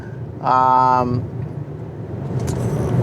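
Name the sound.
Kia K4 hatchback wheelspin accelerating in first gear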